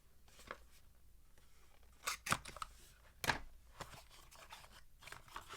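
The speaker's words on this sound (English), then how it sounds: "We're going to need to cut the sticker." A Hogue knife slicing through a sticker on a package: quiet scratchy cutting and tearing with a few crisp louder snips and crinkles, close up, no talk.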